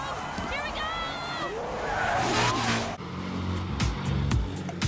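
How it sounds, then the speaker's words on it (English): Busy Manila street traffic with jeepneys, motorcycles and buses: a steady wash of engines and passing vehicles, with a crowd babble of voices mixed in throughout. "Jeepneys are cutting across lanes. Motorcycles are squeezing through gaps I didn't know were physically possible."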